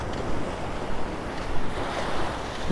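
Sea waves roll and wash onto Honey Beach at Ankola, Karnataka, in a steady, rushing roar, with wind buffeting in the background and no voices.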